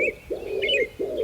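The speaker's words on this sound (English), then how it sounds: "The pigeon continues its call in the distance, steady and unchanged." A pigeon gives a steady, repeated cooing call in an outdoor garden on a calm morning, with three rounded coos in a row and a few faint bird chirps over the top.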